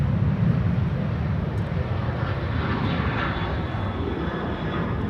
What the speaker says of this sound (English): Transavia taking off via Cheaters Lane, which is why it isn't airborne yet and is rotating only now.